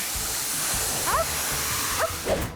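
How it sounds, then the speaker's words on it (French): Air hose filling a flat tire in the PAW Patrol cartoon, a steady airy hiss running throughout with a few brief chirpy whimper-like tones over it. "nous pouvons raccorder le tuyau au pneu plat et le remplir d'air."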